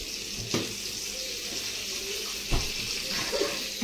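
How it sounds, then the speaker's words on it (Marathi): Fish fries in a pan beside a simmering prawn curry, giving a continuous close hiss and sizzle with a couple of brief clatters. "इकडे कोलंबीचा रस्सा होतोय, इकडे फ्राय पण झालेली आहे."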